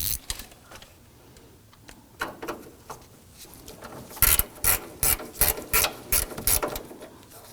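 A ratchet loosens a bolt on a 2005-2009 Subaru Legacy during AC condenser and receiver drier replacement, a close, rhythmic series of sharp clicking bursts that grows louder and more regular in the second half.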